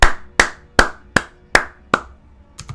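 Six sharp, evenly spaced taps, then a quick double tap, imitate the rhythmic stomping of many feet, loud and close with nothing else in between.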